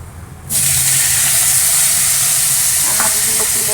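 Fish with panch phoron and garlic sizzling in a hot pan, a loud steady frying hiss that jumps up sharply after a brief quieter start and carries on with faint stirring clinks near the end.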